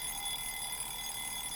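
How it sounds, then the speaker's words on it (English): Alarm clock ringing in a visual novel game, a steady continuous electronic ringing tone sustained evenly throughout, moderately quiet and alone with no talk. "I was woken up by the noisy alarm clock."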